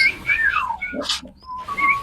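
Whistled bird-like chirps and sliding tones, loud and close, with a brief breathy burst in the middle, sounding more like a person whistling or imitating birdsong than distant birds.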